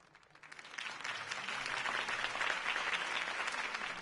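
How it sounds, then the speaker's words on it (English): Crowd applause after a campaign speech in a Batman video game, rising from quiet into steady, sustained clapping from a large audience, heard alone without talk. "If only Mr. Wayne, my campaign's largest backer, could have heard that applause"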